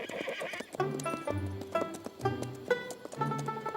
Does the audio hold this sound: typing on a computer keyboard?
no